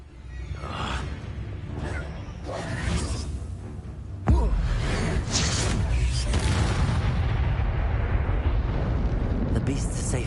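A Bombarda spell blasts in Hogwarts Legacy with a sudden heavy boom and whoosh, then a sustained rumbling roar of debris that fills the rest of the moment.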